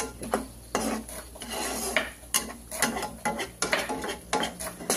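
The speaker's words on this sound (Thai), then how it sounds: "แล้วก็ผัดนะคะ ผัดให้หอม" Curry paste is stir-fried in a metal pan for chu chee mackerel, with a utensil repeatedly scraping and clanking against the pan in an irregular rhythm over a soft sizzle.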